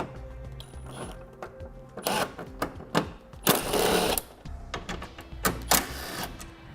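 A ratchet or power tool whirs in short bursts as 10mm bolts come off the top and side of a 2017 vehicle's headlight assembly, close up with clicks and metallic rattles between runs.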